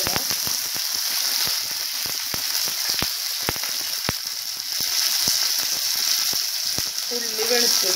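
Curry leaves hit hot oil with popped mustard seeds in a pan, giving a dense, steady sizzle dotted with sharp crackles and pops throughout, close and alone, with a faint scrape near the end.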